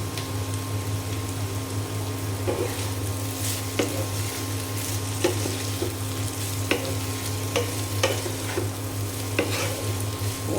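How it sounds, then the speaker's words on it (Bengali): Rui fish seasoned with turmeric and salt is stirred in a hot pan: a constant sizzle over a low hum, broken every second or so by the scrape and tap of a spatula against the pan. "খুব ভালো করে নেড়ে চেড়ে দিব"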